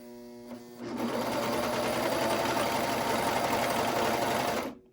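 A Brother 2340CV coverstitch sewing machine stitches fabric with a fast, even mechanical whir that starts after a moment, runs loud and close for several seconds, then stops abruptly.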